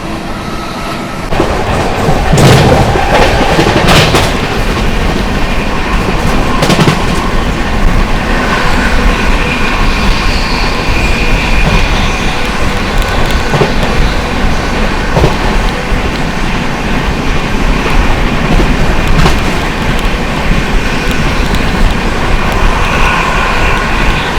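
The Tamil Nadu Superfast Express, an express train, rushes past at speed, a loud continuous roar with rattling wheels and rhythmic clacking over rail joints, sustained throughout.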